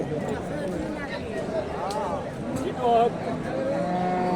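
A Friesian cow lets out a drawn-out moo, followed by a shorter one, amid steady crowd chatter and market noise at a cattle market.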